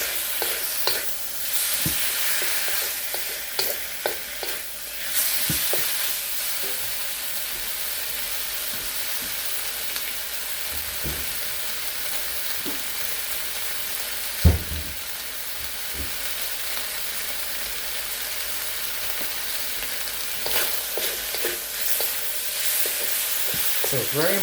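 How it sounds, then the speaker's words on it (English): Beef for Chinese pepper steak stir-fries in a hot wok with oil, a dense close sizzle broken by repeated scraping and tossing strokes and an occasional clank of the spatula, with no speech. "So you're going to cook the beef."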